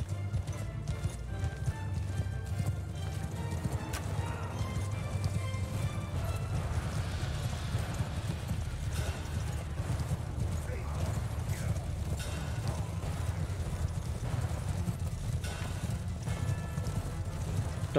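Horses galloping in the Mount & Blade 2 Bannerlord video game, a steady rush of many hooves clip-clopping with occasional whinnies over a continuous low rumble of battle, filling the whole stretch.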